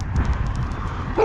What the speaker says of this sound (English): This is the friendly dog.